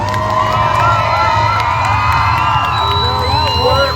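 A crowd at a compact car figure eight race in Lewiston, Idaho cheers and whoops for the drivers, a steady roar of voices with shrill shouts and whistles rising over it.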